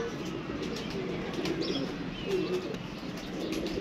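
Pigeons coo softly and repeatedly at close range, with light rustling and a few faint chirps in the background.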